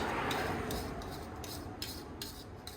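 Old bolt threads on a Shelby Daytona Turbo Z subframe being cleaned, giving a steady close scraping rasp with a run of repeated brushing strokes and no talk.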